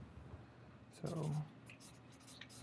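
Marker or chalk writing out an electrical engineering equation again on a board, a brief scratchy stroke run of about half a second standing out over quiet room tone, with faint speech murmur around it.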